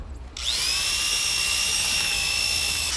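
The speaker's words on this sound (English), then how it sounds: "people came up with ways to make electric motors and attach them to the spinning drill bit" A high-pitched electric drill whirs up suddenly and keeps spinning steadily at close range, loud and continuous.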